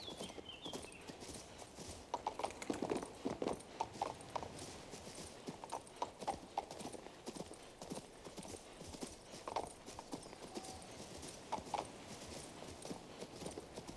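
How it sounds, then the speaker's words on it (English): A horse's hooves clop steadily in the fantasy video game King's Bounty II, a quiet rhythmic trot continuing throughout with faint background ambience. "este caballo no corre nada"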